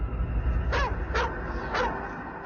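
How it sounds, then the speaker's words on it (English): Police cadaver dogs trained to detect human remains bark a few times in short, moderately close bursts over steady low background rumble, with no talk. "The police bring in dogs trained at detecting human remains."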